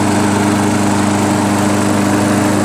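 A Craftsman 7.0 Platinum lawnmower with a Briggs & Stratton auto-choke engine runs smoothly at a steady, loud, close drone after a carburetor repair.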